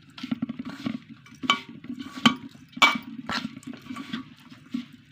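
Chopped onions stirred into a paratha filling mixture in a bowl, with wet scraping and clinking strokes coming in an uneven rhythm, close and fairly quiet.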